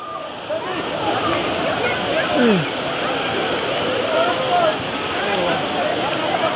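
Daranak Falls pours in a steady, loud rush of falling water that holds constant throughout, and voices talk faintly beneath it.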